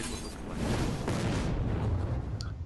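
Fireball spell explosion in the Hearthstone video game, a broad roaring burst that swells and sustains for a couple of seconds before fading, loud and alone.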